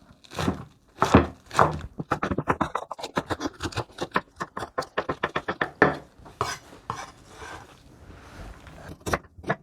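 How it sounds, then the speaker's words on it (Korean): A knife chops home-grown young green onions finely on a cutting board, producing a fast, steady run of crisp close taps that slows briefly before resuming, with no talk. "송송 썰어서 준비합니다."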